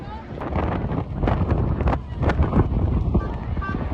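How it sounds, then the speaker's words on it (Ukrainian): Strong wind buffets the microphone on a bridge near Big Ben in a storm, loud gusty rumbling and crackling with people talking through it. "всіх просто вітром зносив."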